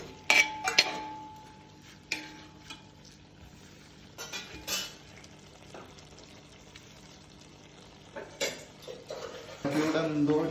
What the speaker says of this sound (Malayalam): ഇടയ്ക്കൊന്ന് നമ്മൾ ഇളക്കി കൊടുക്കണം ചിക്കൻ